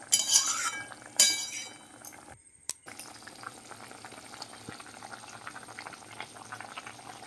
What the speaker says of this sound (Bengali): টক খুব ভালোভাবে ফুটিয়ে নিচ্ছি